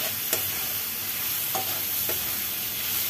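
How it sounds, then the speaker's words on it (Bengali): Boneless chicken fries with ground spices and turmeric in a pan over low flame, hissing evenly up close while a spatula scrapes and taps the metal a few times. "চিকেনের সাথে ভাজা ভাজা করে নেব"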